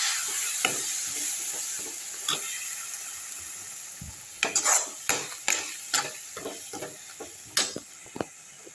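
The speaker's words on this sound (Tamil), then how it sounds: "இதையும் நல்லா வதக்கி விட்ருவோம்" Oyster mushroom gravy with tomato juice is stirred in a pan over low heat, giving a soft steady sizzle under repeated clicking and scraping of a spoon against the pan, which grow more frequent in the second half.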